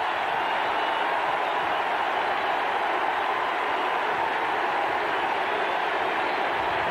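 A roaring stadium crowd at a 1987 Miami versus Florida State college football game, a dense, constant wall of noise from the stands, loud and unbroken throughout.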